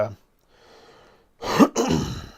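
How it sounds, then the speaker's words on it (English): A short throat-clearing cough, close and abrupt, follows a quiet pause; a brief breathy sound comes just before. "One of these days, I'll quit coughing."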